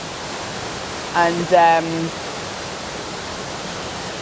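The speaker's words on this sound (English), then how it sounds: "the plunge pool at the bottom also erodes with the force of the water coming down off the waterfall" A waterfall in Jesmond Dene pouring into its plunge pool, a steady broad roar of falling water heard throughout, with someone briefly speaking over it.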